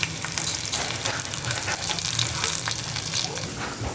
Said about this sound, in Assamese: মিঠাতেলখিনি অকণমান গৰম হ'লে ইয়াত দি দিম কলা জিৰাকেইটা তাৰপাছত দি দিম নহৰু